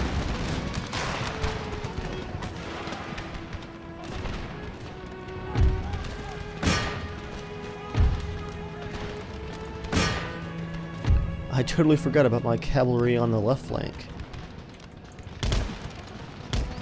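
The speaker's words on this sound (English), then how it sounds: "they pop up and fire off a volley" Musket volleys from line infantry in Empire: Total War crackle as scattered sharp reports and thuds across a battlefield, with someone talking over the gunfire throughout.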